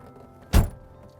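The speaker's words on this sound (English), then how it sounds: "So I'm going to shut the door" Single solid thunk of a Bugatti EB110 SS door shutting, close and sharp, a short low-heavy impact amid quiet surroundings.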